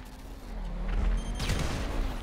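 A self-placed mine explodes in GTA V, a deep rumbling blast with a heavy low boom that swells and lingers as debris-like crackle fades, loud and close with no talk.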